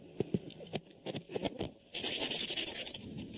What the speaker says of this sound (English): That's the sound of sand being scraped off my lunch.